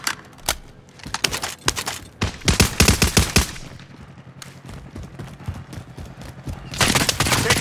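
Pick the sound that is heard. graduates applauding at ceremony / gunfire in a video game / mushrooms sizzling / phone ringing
gunfire in a video game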